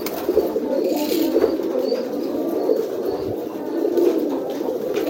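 Pigeons brooding eggs in a loft give a steady, low murmuring coo that carries on without a break, with faint chirps and a brief flutter of wings over a quiet hum.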